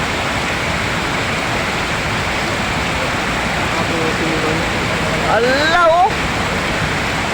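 Strong rushing floodwater in a sudden flash flood, muddy and fast-rising, roars as a steady broadband wash throughout, with a man's excited exclamations briefly over it near the end.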